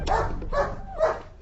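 A dog in an audio comedy barks three times in quick succession, loud and close, with yipping, slightly whining tone and no talk over it.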